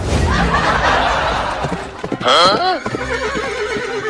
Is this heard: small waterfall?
no